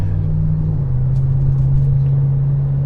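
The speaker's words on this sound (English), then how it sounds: "You can hear that V8 and that Ram next to us." Heard from inside a Toyota Corolla Cross on a night drive, a neighbouring Ram truck's V8 gives a loud, steady low rumble with a constant droning hum, close by and with no talking.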